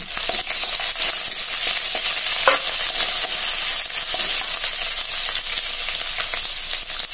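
Curry leaves and ginger fry in hot oil for a tempering, giving a steady, loud sizzle with occasional sharper crackles and the faint scrape of stirring, no voices.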